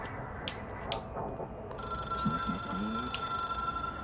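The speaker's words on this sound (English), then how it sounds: "There's the phone." A telephone rings in a video game, a steady electronic bell tone starting partway through and continuing over a low background of game ambience.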